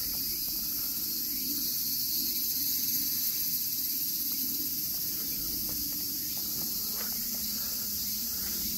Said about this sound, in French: On y retrouve nos amis les cigales qui nous avaient bien manqué.